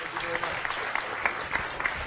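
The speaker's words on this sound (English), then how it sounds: "Let's give him one more round of applause." Steady audience applause at a science cafe event, a dense wash of clapping at moderate volume with a few sharper claps standing out.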